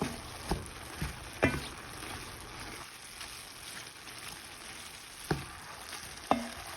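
Garlic paste is stirred into a simmering meat sauce, a soft continuous sizzle under a few sharp scrapes and knocks of a spoon against the pan, fairly quiet and close.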